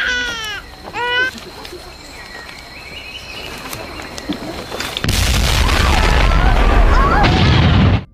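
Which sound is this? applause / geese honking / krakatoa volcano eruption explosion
krakatoa volcano eruption explosion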